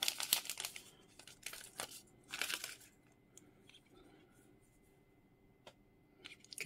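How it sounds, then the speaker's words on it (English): Sticker being peeled off a ZTE Nubia Z60S Pro phone box, close, scratchy ripping and crinkling in several short bursts with quiet gaps between them. "Get the sticker off."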